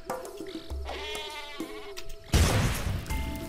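Sheep weapon in Worms Revolution bleating through a short run of cartoonish calls over game music, followed by a loud explosive blast that fills the last second.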